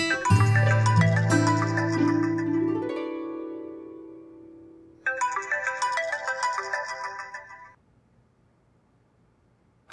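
Mobile phone ringtone left behind, a bright electronic melody that plays loudly, pauses briefly, then repeats a second phrase before cutting off, with no voices over it.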